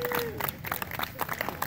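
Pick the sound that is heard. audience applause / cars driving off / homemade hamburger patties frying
audience applause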